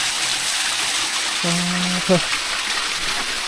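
A waterfall on a forest stream in Laos at night gives a steady, rushing hiss that fills the whole stretch, with a short voice-like hum rising over it midway.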